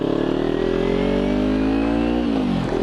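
A 2013 Kawasaki Ninja 300 Special Edition motorcycle engine with a throaty aftermarket exhaust, revving loud and close with pitch climbing steadily, then dropping off sharply near the end.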